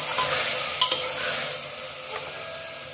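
Steady bright sizzling of tomatoes added to onions frying in a hot pan, with a few soft clinks and stirring scrapes, close and without talk.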